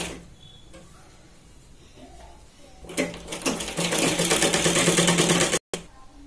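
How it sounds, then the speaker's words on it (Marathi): Sewing machine stitching along the folded edge of a blouse, quiet at first, then a loud, steady run of rapid stitching for about three seconds with a brief stop near the end. "शिलाई लावून घ्यायची"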